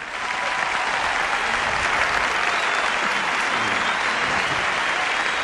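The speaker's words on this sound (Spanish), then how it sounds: "les pido un fuerte aplauso para recibirla" A dense, even wash of audience applause greets an orchestra arriving for an evening concert, loud and continuous from start to finish, with no voices standing out above the clapping.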